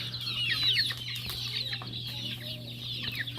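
Backyard gamefowl chickens cluck and chirp close by, scattered short calls over a low steady hum, with no one speaking.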